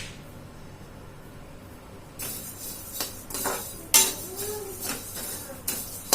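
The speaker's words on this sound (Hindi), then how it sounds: "यहाँ पे भून रही हूँ मैं धनिया, और घी नहीं डालूंगी, बस ऐसे ही भून लूंगी।" Coriander dry-roasts in a pan without ghee while a metal utensil stirs and scrapes, making intermittent clinks and knocks that begin after a quiet stretch and come irregularly.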